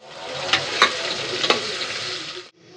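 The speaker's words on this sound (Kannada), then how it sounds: "ಅದೆಲ್ಲ ಕಾದಿರೋ ಎಣ್ಣೆಗೆ ಹಾಕ್ತಾ ಇದ್ದಾರೆ ಫ್ರೈ ಆಗೋಕ್ಕೆ" Fennel and spices for biryani drop into hot oil, setting off a loud, dense sizzle with a few sharp clinks of a utensil before the frying noise suddenly drops away.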